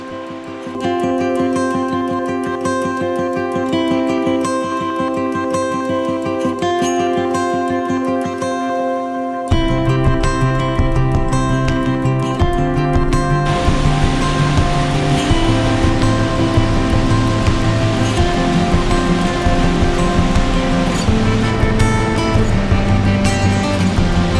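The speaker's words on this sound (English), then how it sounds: "It's got a beautiful creek." Steady rushing water of Avalanche Creek in Montana fills the scene, a constant broadband roar that grows fuller and louder partway through, with no voices.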